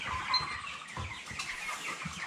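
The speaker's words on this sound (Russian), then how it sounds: "Так, хватаем петухов." Ross 308 broiler roosters about thirty days old cluck and murmur softly and steadily in a poultry pen, with low scuffling and handling noise beneath.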